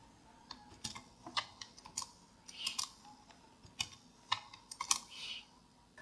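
Steady keystrokes on a computer keyboard while GST details are entered into Tally accounting software, quiet and close, with irregular clicks and short bursts and no talking.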